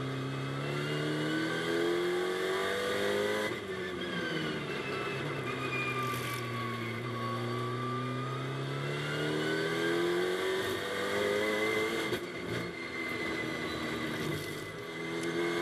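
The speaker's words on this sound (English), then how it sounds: "the last couple of cars to take the checkered flag, and Ben Schneider down in the middle" Several GT2 race cars in Barcelona qualifying roar past on track, loud engine notes rising and falling in pitch as they pass and overlap, continuous throughout with no talk.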